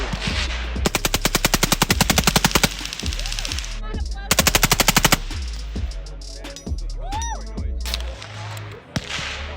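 AK rifle fire at a shooting range comes in two rapid full-auto bursts of sharp, loud cracks, followed by scattered single shots and echoes as people talk in the background.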